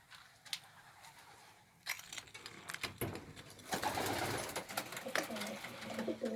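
Soft cooing of an Old Polish pigeon mixed with rustling and shuffling movement inside a pigeon loft, with a low murmur of voices partway through.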